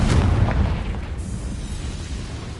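A Confringo blasting spell explodes in Hogwarts Legacy with a heavy rumbling boom that starts loud and close, then trails off into a sustained low roar of debris and echo.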